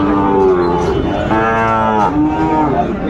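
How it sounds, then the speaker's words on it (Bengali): A Sahiwal bull calf at a Dinajpur cattle market lets out a loud, drawn-out moo lasting about three seconds, rising and bending in pitch, close by with no talk over it. "শাহিওয়াল ষাঁড় বাচ্চা।"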